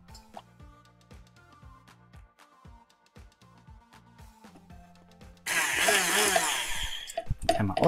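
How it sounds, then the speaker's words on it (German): A countertop blender blending a breakfast smoothie roars on abruptly after a stretch of quiet clicking and knocking, then whirs loud and steady with shifting pitch to the end. "Wir haben jetzt halt hier den Standmixer, Handmixer vorbereitet"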